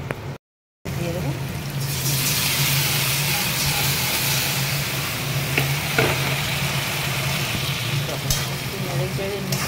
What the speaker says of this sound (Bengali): নেড়ে চেড়ে নিচ্ছি।